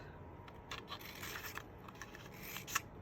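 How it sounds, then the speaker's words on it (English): Scissors snip quietly through paper strips being cut into palm leaves, several faint, irregular cuts close by in a quiet room. "you're just gonna go and give her some snips"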